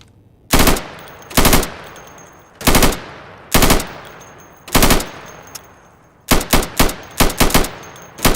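A primary rifle fires at targets through plywood on a training range in the video game Insurgency. Loud, close single shots ring out at a steady pace, then a quicker burst of rapid shots follows. Each report cracks sharply with a short echo.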